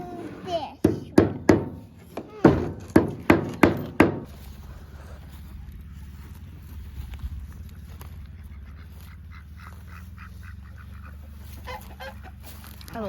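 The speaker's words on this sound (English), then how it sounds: "I love those ducks." Farm ducks let out a rapid run of loud, close honking quacks over a few seconds, then fall quiet, leaving a low background hum.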